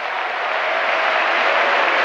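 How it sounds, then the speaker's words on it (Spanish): A church congregation applauds in praise during a Spanish-language sermon, the clapping a steady, dense wash of many hands held at an even level for a couple of seconds with no voices over it. "Démosle un aplauso al Señor"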